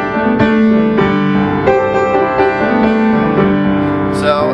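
Piano playing slip-note licks over a I-IV vamp in C, with bright sustained harmonic chords and short grace-note figures repeating steadily, close and loud with no talking.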